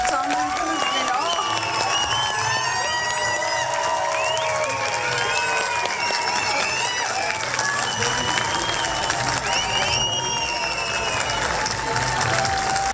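A concert audience applauds and cheers for a singer after she performs her 2019 Eurovision song, a dense, steady wash of clapping and shouts, with singing and voices over it throughout.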